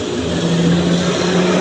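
A car accelerating hard in a street drag run, its engine roaring steadily and loud at close range with a sustained high rev for the short moment.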